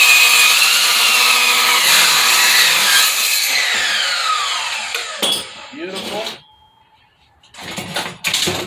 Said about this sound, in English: Clamp it down so it'll cut it straight.